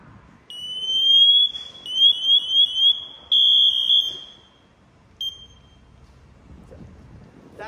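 A firefighter's SCBA breathing apparatus alarm sounds close and loud, a shrill electronic tone repeating in short chirping bursts and longer steady blasts with brief gaps between them, then fading to quiet.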